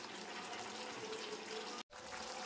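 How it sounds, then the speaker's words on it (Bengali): Water is poured steadily into a pan of browned, cooking chicken, a close continuous splashing stream that breaks off briefly near the end before resuming. "আমি একটু জল দিচ্ছি, বেশি জল দিচ্ছি না।"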